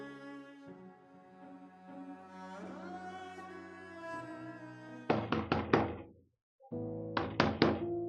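Someone knocks on a door in two loud clusters of rapid knocks, separated by a brief silence, after sustained tonal background sound.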